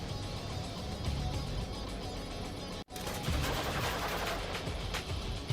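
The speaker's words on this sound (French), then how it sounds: "Donc tu sors ta grosse mitrailleuse." Dense bursts of machine-gun fire from a heavy weapon in a tabletop game, played as a sound effect: a continuous loud rattling barrage, briefly cut to silence midway, then resuming just as intensely.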